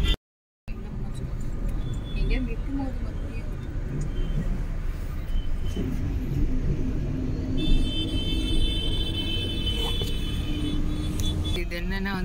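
Steady low rumble of a moving RMS first-class air-conditioned bus, heard from inside the cabin, with continuous road and engine noise, occasional rattles and brief tonal chimes, and people talking over it.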